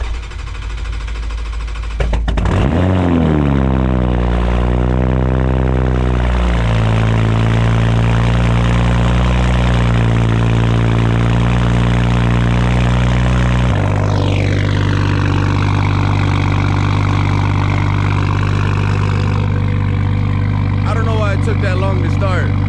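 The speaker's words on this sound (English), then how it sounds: "y'all gonna hear just how rowdy this cold start is" Toyota Supra fitted with a Tomei titanium exhaust cranks briefly, then fires into a loud, rowdy cold-start idle that steps down to a steadier rumble as it settles, heard up close with a voice speaking over it.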